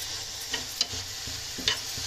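Spinach sautés in a pan for oats moong dal khichdi with a steady low sizzle, broken by a few sharp clinks and scrapes of a stirring spoon against the pan.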